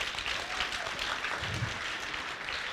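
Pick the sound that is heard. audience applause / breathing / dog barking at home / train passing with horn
audience applause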